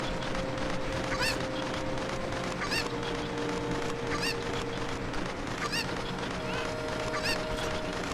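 Cuccos, the chicken-like birds of Zelda: Ocarina of Time, cluck and squawk in a series of sharp, repeated calls over a steady game-music background, with no talking.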